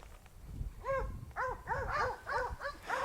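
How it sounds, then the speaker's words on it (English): Hunting hounds bay at a cornered wild hog in South Texas brush, a series of faint, somewhat distant yelping barks arriving in irregular bursts over low rumbling background. "The baying hounds can help disguise this if he only moves forward when the dogs are barking."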